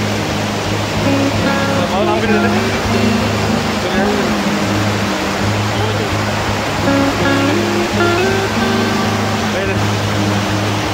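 Glacier meltwater from Thajiwas Glacier in Sonamarg, Kashmir, rushing past in a loud, constant broadband roar from close by, with a faint tonal hum underneath.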